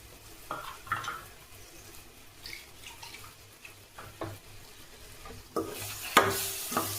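Ground onion-tomato masala frying in a pan for a broad bean and brinjal kuzhambu, a soft low sizzle broken by scattered clinks and scrapes of a spoon stirring, growing louder near the end.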